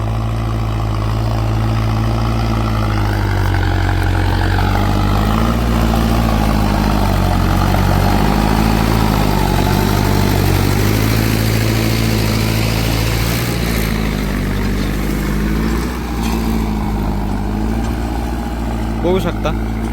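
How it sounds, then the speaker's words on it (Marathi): A tractor engine chugs steadily nearby while plowing a field, its low droning rumble rising and falling slightly as it works, with voices talking over it at times. "देवाचं चालू आहे ट्रॅक्टर नागरायला"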